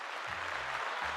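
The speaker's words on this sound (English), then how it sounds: "Let's give them a round of applause." A brief burst of audience applause, steady dense clapping that fills the whole moment at moderate volume.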